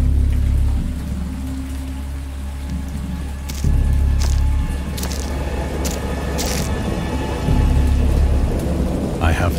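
A thunderstorm in Dagon, a Lovecraftian visual novel game: loud rolling thunder booms over a constant heavy downpour of rain, with several sharp cracking bursts spread through the storm.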